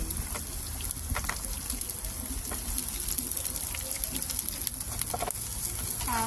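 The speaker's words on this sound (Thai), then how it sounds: "ใส่กระเทียมสับลงไปเลยนะคะ แล้วก็ผัดให้มีกลิ่นหอมนะคะ" Chopped garlic, carrot and onion stir-fry in a hot pan, a steady close sizzle and hiss with scattered scraping and stirring sounds throughout.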